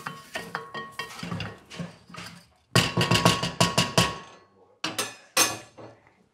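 Falafel ingredients with lemon zest and salt are mixed in a bowl: a utensil clinks and scrapes against the dish in irregular, fairly close bursts separated by short pauses, with no voices.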